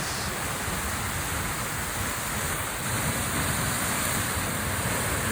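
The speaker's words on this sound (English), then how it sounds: "And look at that water coming in." Water washing in toward a shoreline below a city skyline, a steady broadband rushing wash that swells slightly near the end, continuous and fairly close, with no talk.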